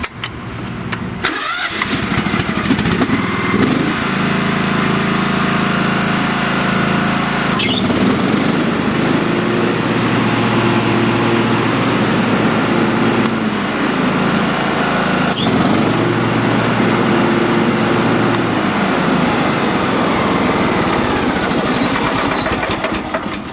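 A John Deere lawn tractor with a new battery cranks and starts, then its small engine runs loud and steady at close range, with brief shifts in revs.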